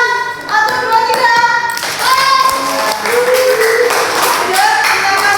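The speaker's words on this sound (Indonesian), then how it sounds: "Tepuk tangan dulu. Ya, yang keras." A school class claps hands loudly together on a count, giving a dense burst of applause-like slaps, while voices speak and call out over the clapping.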